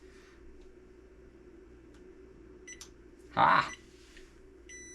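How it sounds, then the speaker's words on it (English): A battery management system on a large battery bank beeps as it powers on, a single short electronic tone over a steady low hum, followed by an exclamation from a person. "In theory, when I connect this to that, the BMS beeps and turns on."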